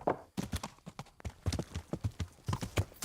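Horse hooves clip-clop in a steady, fairly close rhythm while riding in the medieval video game Kingdom Come: Deliverance, the beats sounding alone without talk.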